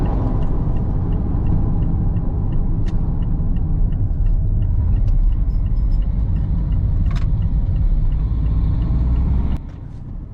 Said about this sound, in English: now I'm going to hop in the car